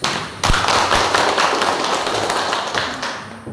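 A classroom group claps after a presentation, a burst of scattered close and distant hand claps that starts abruptly and fades out over a few seconds.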